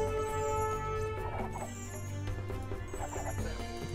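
A horse neighs and whinnies amid the busy battle music and combat effects of the strategy game Age of Empires 2, the call fairly prominent but sharing the mix with steady game sounds throughout.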